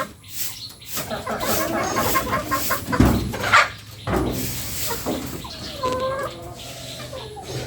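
Free-ranging chickens cluck and squawk close by in a yard, with bursts of calls and a few sharp cries rising over scratchy background movement.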